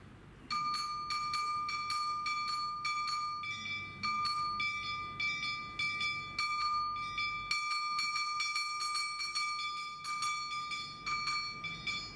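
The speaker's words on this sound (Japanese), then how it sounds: "これがまずこの鐘ということですけども" A metal Awa Odori kane hand bell is struck in a fast, steady rhythm of bright ringing hits with long-sustaining metallic tones, close and loud, with brief shifts in tempo and no talking.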